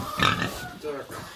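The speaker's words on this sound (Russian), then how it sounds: "Первым делом накормим свиньюшек, чтобы они не кричали." Pigs on a rural Russian farm let out a short burst of close, loud squealing grunts followed by a softer grunt, mixed with a nearby human voice, all within about a second and a half.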